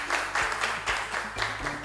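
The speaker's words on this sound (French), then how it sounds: "Merci de les applaudir." A studio audience at the French show "Le Trône" applauds six contestants, a short burst of dense, even clapping that stays loud and steady, with a low hum underneath and no voices.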